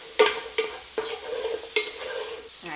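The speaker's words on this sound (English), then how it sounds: "I'm gonna stir this stir fry a little bit more." Stir fry being stirred in a pan, with four or five distinct scraping strokes of a utensil against the pan over a steady sizzle, close and fairly clear, no talking.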